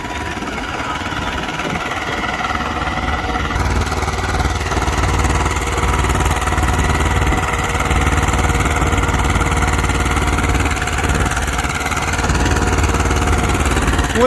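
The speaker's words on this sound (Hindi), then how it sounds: "अब लोग के दूसरे गियर में चल रहा है ट्रैक्टर।" An Eicher 312 tractor engine pulling at full RPM in second gear during a tractor pulling contest, a loud, steady, close diesel drone that strains continuously without letting up.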